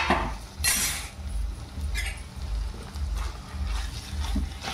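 Lid lifted off a pan of cooking capsicum and potato: metallic clinks and scrapes of the lid against the pan over a soft steamy hiss and bubbling, close, with no talking.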